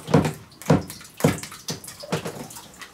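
Water drained from a saltwater aquarium pours into a sink in rhythmic gushing splashes, about five surges close by, with no talking.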